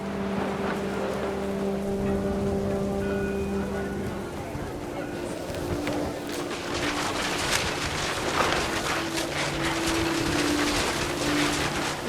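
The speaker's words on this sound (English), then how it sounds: "The rain came down in buckets then" Heavy rain pours down in the video game What Remains of Edith Finch, a dense steady hiss that swells and grows rougher, with low tonal music underneath and a voice speaking over part of it.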